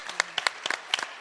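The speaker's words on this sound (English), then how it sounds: "let's give these panelists a round of applause." Scattered, sparse claps from a small audience at a justice symposium, a handful of separate hand claps with gaps between them, brief and moderately close.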